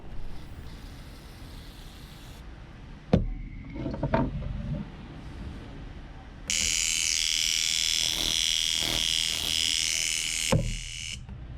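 A clogged fuel injector from a 2-stroke outboard sits on an injector tester with contact cleaner forced through it: a sharp click, some faint rattling, then a loud steady spray hiss lasting about four seconds that ends with another click.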